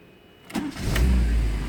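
A petrol car engine cranks and catches within a second, then settles into a steady, loud rumble close by.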